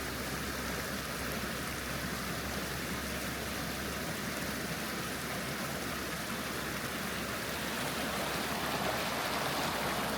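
A mountain river runs close by near a grassy village at about 2,140 metres in Tajikistan, a steady, dense rush of water that continues evenly throughout, with no voices.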